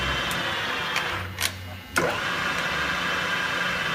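A Lagun vertical milling machine runs in low gear with a steady, close mechanical hum. The hum dips briefly near the middle and then returns to an even drone.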